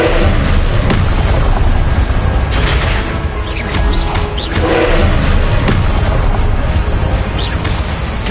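Confringo blast spells exploding in Hogwarts Legacy combat, loud booming bursts landing one after another amid continuous crashing battle noise, with a few sharper impacts standing out.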